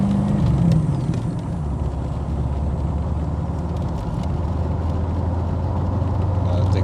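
A 1987 Callaway twin turbo LT1 Corvette with a four-speed manual plus overdrive, one that tends to stall, gives a steady low engine drone with road rumble while driving, continuous and moderately loud with no talk.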